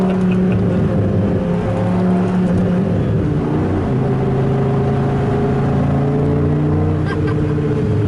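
A 2002 Dodge Viper RT/10 with a roughly 500-horsepower engine runs on a dyno, its loud, steady engine drone holding throughout with a slight rise in pitch as it builds speed.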